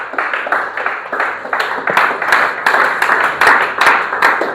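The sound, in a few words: congregation applauding at a prayer retreat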